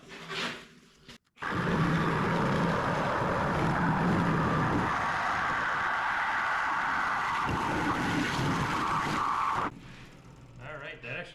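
A saw fitted with a new blade cuts steadily through a Chevrolet C10 truck bed being shortened, a loud, continuous grinding roar lasting around eight seconds before it stops, with brief sounds before and after.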